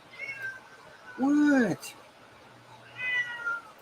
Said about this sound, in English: he's meowing at me.